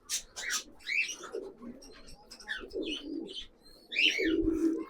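Pigeons from a loft of high-quality flying birds coo repeatedly in low, rolling bursts, close by and fairly loud, with occasional chirps and brief wing movement between calls.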